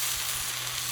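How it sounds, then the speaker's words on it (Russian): Fresh tomato pieces fry on a hot saj, giving a steady, close hiss of sizzling with no pauses or talk. "И вот такие у нас будут сегодня обжаренные на садже."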